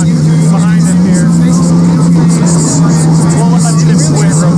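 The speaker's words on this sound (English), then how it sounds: "We got the last set of the sprint car hot laps going on behind him here." Sprint cars run hot laps at Jacksonville Speedway, a loud, sustained engine drone from the track with cars passing, set against crowd babble and voices in the background.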